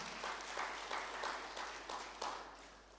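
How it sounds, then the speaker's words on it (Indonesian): A church congregation at a Sunday worship service claps in a few loose waves, faint and distant, with soft bursts roughly every half second over a quiet room. "Let's give God a hand for that."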